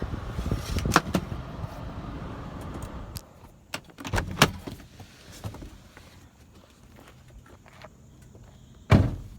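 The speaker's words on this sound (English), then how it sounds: "I'm going to go ahead and get out of the car so that you can kind of get a better look." A car door thuds shut as someone steps out of a car beside an overgrown house front, with faint shuffling, a jingle of keys and footsteps between a few sharp clunks, the loudest slam near the end.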